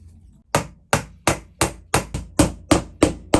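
Hammer blows driving nails into wood as a glued piece is fixed in place, nine sharp, evenly spaced strikes close by after a brief quiet start, no talking.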